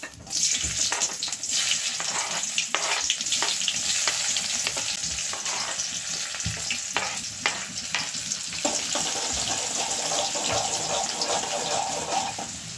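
Onion sizzles steadily in hot oil for Gujarati sev bhaji, a loud continuous frying hiss broken by scraping stirs and clinks, with no talk.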